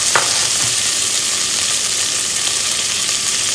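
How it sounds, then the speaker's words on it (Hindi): Chopped onion and tomato fry loudly in hot oil in a pan, a dense, steady sizzle with a brief clink of a utensil at the start. "एक मीडियम साइज़ की प्याज और ये एक मीडियम साइज़ का टमाटर, सब कुछ एक साथ डाल के मैं इसको भूनूंगी अभी"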